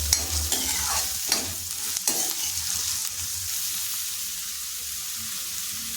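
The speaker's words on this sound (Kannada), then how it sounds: "ಈಗ 2 ಮೀಡಿಯಮ್ ಸೈಜಿನ ಈರುಳ್ಳಿನ ಈ ರೀತಿ ಸಣ್ಣದಾಗಿ ಕಟ್ ಮಾಡಿ ಹಾಕೋತಾ ಇದ್ದೀನಿ" Finely chopped medium onions sizzle in a pan as they are stirred, the frying hiss steady and close with a few utensil knocks near the start and no talk.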